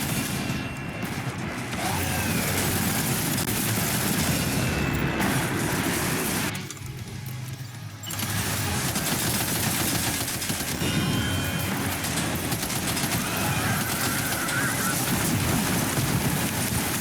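Dense, rapid automatic gunfire in the video game Death Stranding 2 fills nearly the whole stretch, loud and continuous with heavy background noise, breaking off for about a second midway before resuming.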